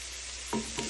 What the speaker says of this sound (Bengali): এটা আরো 1 থেকে 2 মিনিট আমি এটা সুন্দর করে এখন ভাজবো।